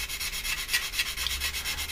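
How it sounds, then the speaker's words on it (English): Sandpaper rubbing on a Hasegawa 1/48 Harrier GR7 plastic model kit, close up, in quick regular back-and-forth strokes of soft scratchy friction, with no voices. "So just keep on sanding here."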